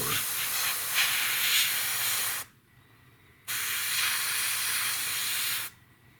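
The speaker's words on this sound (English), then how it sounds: "spraying gloss is best done relatively wet" Wet gloss coat sprayed onto a model B-17 aircraft: loud, close airbrush hiss in two sustained bursts separated by a brief pause.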